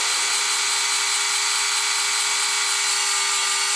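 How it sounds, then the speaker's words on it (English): A power drill with a bit fitted runs at a constant high whine, steady and loud for the whole stretch, with no talk over it. "Let the drill bit do the work"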